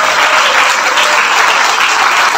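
Loud, dense applause from a large audience at an event honouring Dr Tufail Chandio, a continuous roar of many hands at close range with no pauses or voices.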